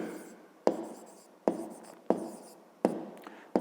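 Pen or pencil writing on paper for a maths exercise about a wire pentagon, with five sharp stroke onsets at a steady rhythm, each followed by fading scratching, close and clear with no talk.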